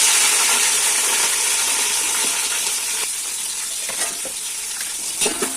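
Large onions sizzling and crackling in hot oil for biryani, with a spoon scraping and stirring the pan close by.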